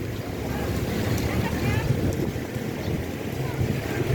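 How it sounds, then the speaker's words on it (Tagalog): Steady wind blusters by the sea, a constant broadband roar that buffets the microphone, with surf and open water noise blended beneath for the whole stretch. "Mahangin naman ngayon."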